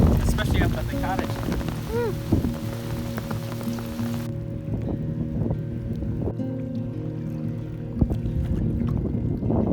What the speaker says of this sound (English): This is the biggest hail we've ever seen, especially up at the cottage.